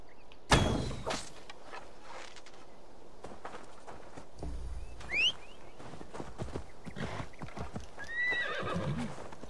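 Horse hooves clip-clopping and a horse whinnying in the video game Assassin's Creed Valhalla, with a sharp hoof onset, scattered steps and a couple of whinnies later, mid-distance over faint game ambience.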